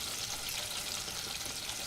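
Apple slices coated in churro batter fry in hot oil, giving a close, steady, bubbly sizzle with no pauses.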